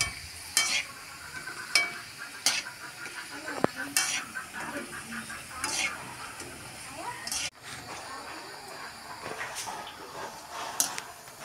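Fuchka frying in mustard oil sizzles steadily, broken by regular scraping and stirring strokes about once a second, loud and close.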